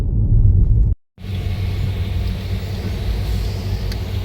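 Steady roar of road traffic passing close by on a street in the Seychelles, a continuous low rumble of engines that cuts out briefly near the start, then resumes.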